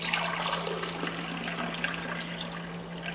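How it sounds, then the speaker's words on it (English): Water pours steadily from an AquaTru reverse osmosis countertop filter into a glass, a close, even splashing rush over a faint steady hum, with no talking. "you can pour yourself a glass of water by pressing the blue button here."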